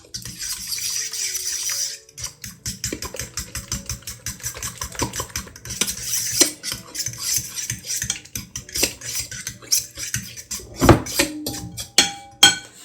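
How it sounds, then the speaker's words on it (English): A spoon stirs a broccoli and cheese casserole mixture in a bowl, making a run of soft, wet clicks and scrapes. The strokes come in quick irregular rhythm and are close and fairly quiet, with no talking. "So let's just give this a mix."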